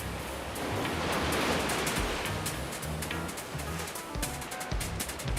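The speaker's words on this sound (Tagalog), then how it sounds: "Malakas ang alon." Strong ocean waves at Dasol, Pangasinan, a loud continuous wash of surf with rolling swells and wind buffeting the microphone, no voices.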